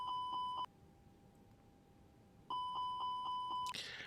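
A fire alarm chimes in the cockpit of a ToLiss A320 airliner in a flight simulator game, sounding as repeated clear electronic beeping tones in two bursts separated by a short lull.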